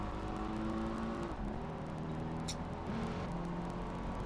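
A race car in Project Gotham Racing 2 accelerates down the final straight, its engine a steady close drone with rising revs and brief dips at gear changes.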